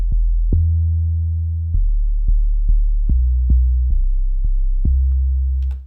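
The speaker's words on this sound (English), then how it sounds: "And that's how the sub sounds." A deep sub bass layer from an amapiano track built in FL Studio, sustained low sine-like notes that change pitch every beat or so, steady and loud with soft clicky attacks and nothing else heard.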